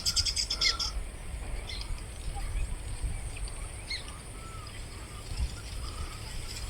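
Agitated baya weaver birds call around their hanging nests, a steady chatter of high chirps and tweets over outdoor rumble, moderately close.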